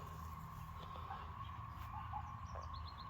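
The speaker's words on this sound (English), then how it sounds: "The birds are chirping." Birds chirp outdoors in the countryside, a few faint, distant short calls scattered over a steady hum of background noise, with no talking.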